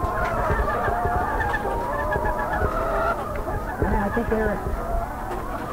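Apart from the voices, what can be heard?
chickens clucking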